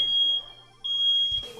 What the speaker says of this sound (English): my smoke alarm went off in my house.